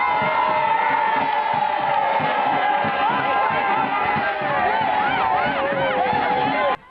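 An enthusiastic street crowd in Winneba, Ghana, cheers and shouts steadily as a procession passes through, with children's voices, whoops and a babble of overlapping chatter, loud and close throughout until an abrupt cutoff.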